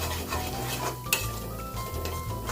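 Soft, steady scraping of a spoon stirring a dry spice mixture of coriander-cumin powder and salt in a bowl, with one brief clink of metal partway through.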